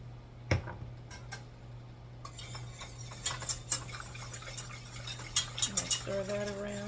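Spices being stirred into cauliflower in a bowl, with faint scraping and light clinks of a utensil against the bowl under a steady low hum, growing busier toward the end.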